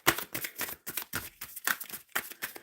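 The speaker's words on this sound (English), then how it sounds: "I'm shuffling for the collective right now" Tarot deck shuffled by hand in repeated rapid riffles, about a dozen papery bursts in an uneven rhythm, close up and alone.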